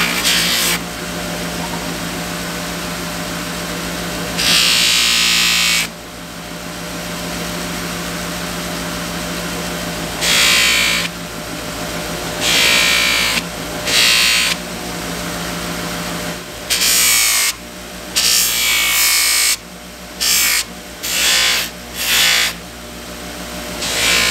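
A buffing wheel polishes the brass of a custom Buck 110 folding knife with burl handles, a loud whirring motor hum broken by repeated bursts of harsher hiss as the blade is pressed on and lifted off, in a steady rhythm.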